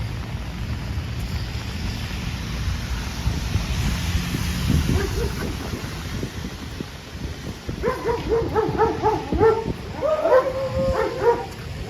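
A dog on a rainy New York City street during flash flooding barks and yips in short bursts toward the end, over steady rain and traffic rumble.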